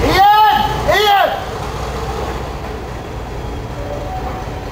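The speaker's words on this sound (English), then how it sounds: "please, to see the train going out?" Green Class 31 diesel locomotive D5613 pulling out, its engine and rail noise rumbling steadily, with loud voices calling out over the first second.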